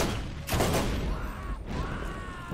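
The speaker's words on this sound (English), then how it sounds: "I don't know who's shooting at me from where." Gunfire in the video game Borderlands, set in the Arid Hills: a couple of loud bursts of shots against a steady noisy game background, with no talking.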